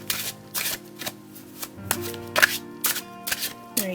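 A French-inspired tarot deck is riffled and shuffled by hand, close up, in a series of quick papery bursts separated by short pauses.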